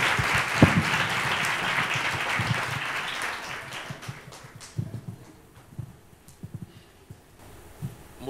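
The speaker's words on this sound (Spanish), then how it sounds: "Un aplauso para Miguel Cardador" Applause from an audience welcoming a speaker at a children's reading-aloud contest, loud at first then thinning into scattered claps and fading out.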